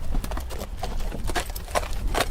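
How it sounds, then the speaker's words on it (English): Horses led in by farmers in 1939 clop over hard ground in quick, uneven hoof beats, moderately close and fairly quiet, with no one speaking. "the farmers from the region begin bringing in their horses to hand over"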